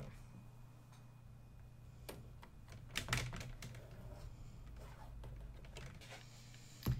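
A Cricut cutting machine working through a foil transfer with a fine foil tip, giving soft, irregular ticking and tapping with a steady low hum, faint and fairly close, with a couple of louder clacks.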